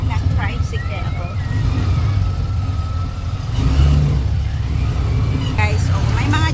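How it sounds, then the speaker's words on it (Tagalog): Motorized tricycle ride in the Philippines, a loud close engine droning and revving steadily throughout, with people talking over the noise. "sakay na kami ng tricycle papunta sa school ni Ate Ina"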